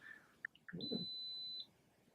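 A few short electronic blips, then one sustained high-pitched beep lasting under a second, faint over quiet background with a low thump.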